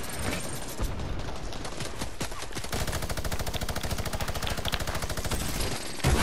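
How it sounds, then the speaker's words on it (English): Minigun fire in the Fortnite video game, a dense, continuous rattle of rapid shots that swells after a brief lead-in and runs loud and steady for several seconds. "And I have a minigun."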